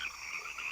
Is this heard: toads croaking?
yes